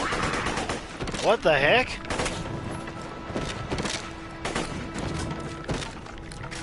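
Rapid turret gunfire in a fantasy castle-assault video game, a dense burst of bangs with a sweeping launch whoosh, while someone speaks briefly over the noise.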